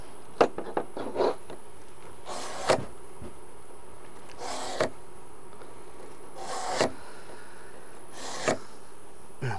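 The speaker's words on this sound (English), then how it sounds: "while he's sharpening that knife" A Rapala fillet knife is drawn through a sharpener in quick strokes at the start, then in single rasping pulls spaced about two seconds apart over a low, steady background hum.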